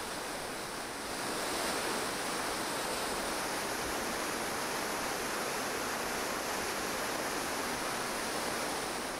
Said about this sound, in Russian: Летом по берегам Телецкого озера можно наблюдать многочисленные, необычайные по красоте водопады, несущие свои воды в озеро.